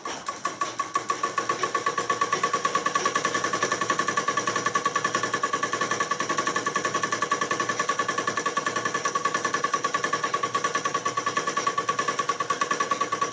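A sewing machine stitching fabric for an umbrella frock runs in a fast, steady mechanical chatter of rapid needle strokes, loud and close, with no talking throughout.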